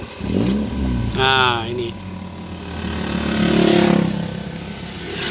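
A Toyota Vios second-generation car engine starts with the clutch pressed and then revs, a low mechanical hum that swells and falls beneath someone talking close by.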